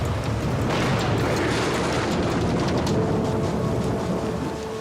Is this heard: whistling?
no